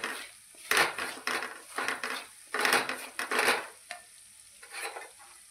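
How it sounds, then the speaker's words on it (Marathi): Chili powder and salt stir-fried in oil for a rustic brinjal curry, heard as repeated scraping strokes of a spatula against the pan over a soft sizzle, each stroke in a short uneven burst with pauses between. "मिरची पावडर आणि मीठ घेतलेले ना ते टाकून घेणार आहोत आणि ते छान तेलामध्ये ना परतून घेणार आहे"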